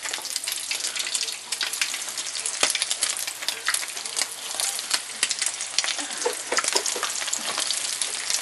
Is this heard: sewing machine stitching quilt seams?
no